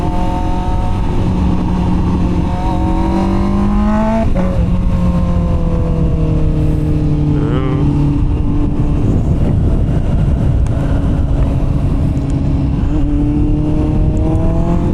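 A Honda CBR650R inline-four revving high and sustained while riding twisty roads, steady loud engine whine rising and falling with throttle and gear changes, with constant wind rush.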